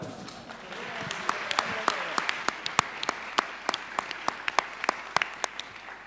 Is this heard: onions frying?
no